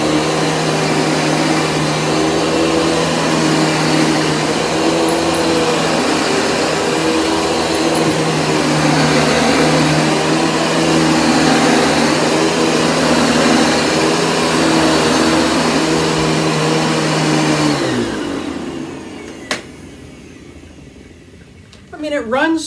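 A loud Panasonic MC-6347 vacuum cleaner drones steadily on carpet for about eighteen seconds, then winds down and switches off, leaving a few faint clicks and handling noises.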